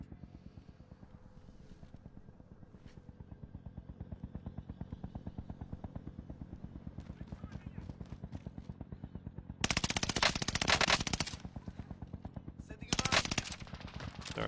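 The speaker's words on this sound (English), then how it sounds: "I'm taking fire. They're on to me." Rapid automatic gunfire from a video game rattles in long, steady bursts, with louder, harsher volleys erupting near the end, and a voice speaks faintly underneath.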